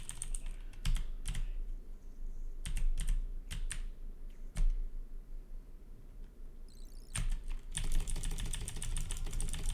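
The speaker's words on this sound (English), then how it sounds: "So it's way easier to type if I move my keyboard." Close computer keyboard typing comes in irregular bursts of quick keystrokes separated by short pauses, with a denser run of clicks near the end and no voices.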